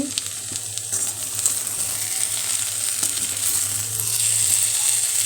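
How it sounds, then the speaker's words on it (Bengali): Soybean curry cooking in a pan gives a loud, close, continuous sizzle and hiss that swells slightly toward the end, with faint stirring underneath. "সয়াবিনের তরকারি বসিয়ে দিয়েছি"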